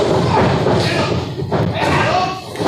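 A wrestler hits the mat from a double DDT in a wrestling match, a heavy thud amid loud crowd noise, with a commentator shouting over it.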